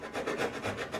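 A hand saw cutting a wooden tenon, a few quick rhythmic rasping strokes through the wood, close up and alone.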